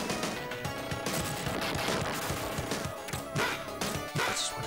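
Rapid in-game gunfire from the Gunstar Heroes side-scrolling shooter, a dense stream of crackling shots and impacts layered over busy game music, loud and continuous with no talking.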